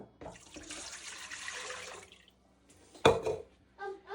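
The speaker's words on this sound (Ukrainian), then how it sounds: "Тепер туди вливаю воду." Warm water pours steadily into a bowl for about two seconds with a bright splashing hiss, then stops; a brief clatter and faint sounds follow.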